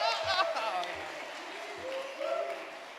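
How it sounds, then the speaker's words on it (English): Awards-ceremony audience at the Cincinnati Entertainment Awards gives a moderate round of applause, a steady wash of clapping from a hall crowd with voices over it. "Give him a round of applause."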